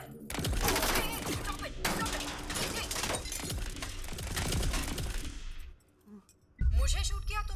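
Gunfire with shattering crashes in an action scene of a Hindi-dubbed film: a dense, loud barrage of sharp bursts runs for about six seconds, breaks off briefly, then a heavy impact hits.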